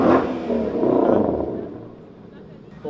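An old Porsche engine revs at a Houston car show, a rough, throaty roar that swells and then fades away over a few seconds, loud and close, with people talking over it.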